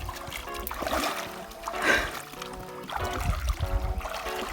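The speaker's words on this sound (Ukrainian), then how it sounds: "ми вирішуємо перейти річку на інший берег." Water splashes and gurgles as people wade across a river, churning and sloshing close by with a louder surge in the middle of the wade.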